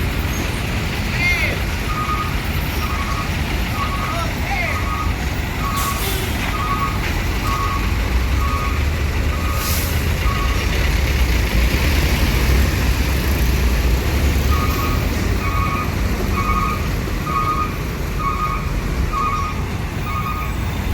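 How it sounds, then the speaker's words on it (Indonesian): Buses and trucks, including an LPG tanker, stuck in a highway traffic jam on the eastern trans-Sumatra road, with a steady roar of engines and road noise and a repeating series of reversing beeps running through most of the stretch. "jalan lintas timur macet, disusah keluar ya bus Rosalia"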